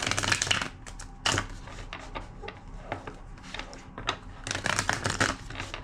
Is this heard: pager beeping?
no